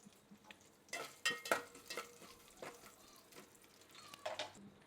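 Green chillies stirred in hot oil with curry leaves in a pan while making tomato rice, giving soft intermittent scraping and clinking stirs over a faint frying hiss, with no speech.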